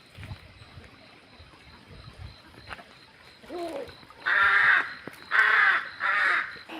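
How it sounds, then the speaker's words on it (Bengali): A crow on a waterfall trail gives three loud, harsh caws in quick succession, preceded by a softer call, over quiet rustling background. "কি পাখি যেন ডাকছে, মনে হচ্ছে ধারকাক"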